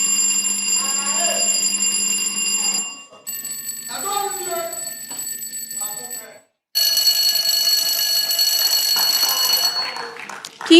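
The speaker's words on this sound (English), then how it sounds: "Let's hear the bells of each team." Quiz teams at a quarter-final contest ring their electronic bells one after another, producing three separate bursts of sustained, steady ringing tones, each a few seconds long, with a short silence before the last.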